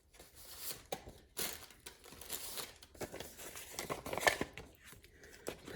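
A paper envelope handled while an order is packed, producing quiet, intermittent crinkling and rustling with small taps and scrapes, close by and soft.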